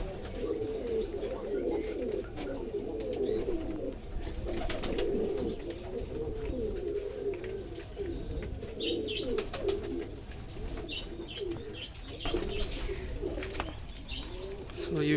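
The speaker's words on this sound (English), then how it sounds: "these beautiful birds are eating in my hand" Pigeons coo in soft, repeated throaty phrases close by while feeding from a hand, with occasional chirps and light rustling over a quiet background.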